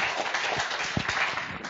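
Audience at a hackathon finale held at c-base applauding and cheering, a dense wash of clapping with a few sharper claps standing out, moderately loud and sustained throughout.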